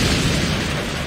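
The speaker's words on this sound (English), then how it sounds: "Rocket barrage ready." A rocket barrage detonating in the video game Command & Conquer: Generals, heard as a dense, loud, continuous rumble of explosions with no pauses for its whole short length.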